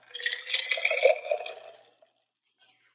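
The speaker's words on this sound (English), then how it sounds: "All shaken up. And pour that in my glass." Shaken chocolate almond milk espresso poured from a shaker into a glass, a steady splashing pour lasting under two seconds, close and fairly loud, followed by a couple of faint clinks.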